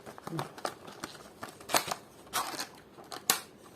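Zebronics ZEB-100HB four-port USB hub packaging being opened by hand, with several sharp rustling and tearing bursts of crinkly material spread across a few seconds, fairly close.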